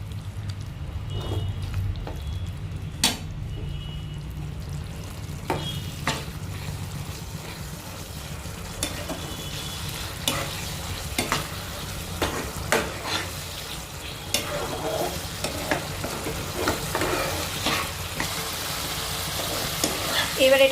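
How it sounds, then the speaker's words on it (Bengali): Bengali-style white sauce fish is stirred and mixed in a pan with oregano and mixed herbs, giving a low sizzle punctuated by repeated sharp spatula taps and scrapes against the pan. "এবার ভালো করে নেড়ে চেড়ে এটাকে মিশিয়ে নেব।"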